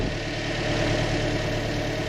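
A Toyota Corolla engine idling steadily with an even, continuous hum and rumble, close and unchanging, heard alone during a check of a suspected faulty alternator or battery.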